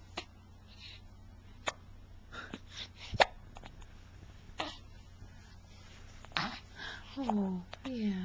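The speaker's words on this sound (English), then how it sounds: "Who has the hiccups?" A young child hiccups indoors: a series of brief, sharp hiccups spaced irregularly, close and fairly quiet, with adult talk and soft vocal sounds in between.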